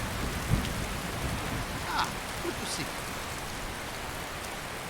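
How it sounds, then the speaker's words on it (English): Heavy, torrential rain pours down in a Skyrim thunderstorm, a steady wash of hiss with faint distant rumbles and a few brief louder drops or cracks rising out of the downpour. "With the torrential thunderstorms again."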